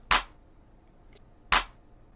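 Two sharp clap hits, bright and snappy, about a second and a half apart, standing alone with a quiet gap between them.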